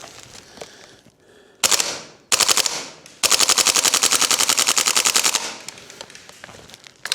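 A WellPro PPK-20 airsoft gas blowback rifle fires loud, rapid full-auto bursts: two short strings, then a long sustained stream of shots about two seconds long, with handling noise between bursts.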